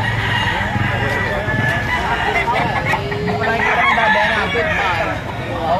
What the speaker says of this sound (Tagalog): Maganda mga manok na ito.